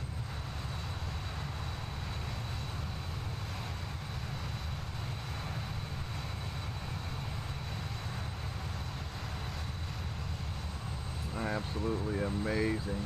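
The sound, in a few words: aircraft cabin engine sound, Just Flight RJ in MSFS 2020 video game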